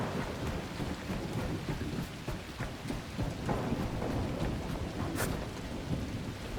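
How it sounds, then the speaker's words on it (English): Nighttime rainstorm in the video game The Last Caretaker, dense steady rain hissing loudly throughout with low rumbling thunder rolling underneath and a brief brighter crack near the end, no voices. "No, it's raining and it's nighttime."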